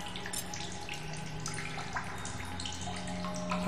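Running water trickles and splashes steadily as empty water bottles are filled in The Solus Project, a soft continuous flow with faint dripping and no voices.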